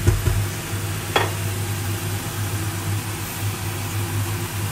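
Bacon sizzling and being stirred in a pan on an electric stove, a steady low frying hiss with a brief utensil scrape near the start, close and continuous.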